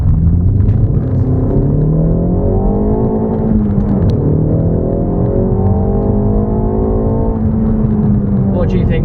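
A 2020 Ford Focus ST drives on UK roads, its engine and exhaust droning loudly from inside the cabin, rising in pitch as it accelerates, easing briefly, then pulling again.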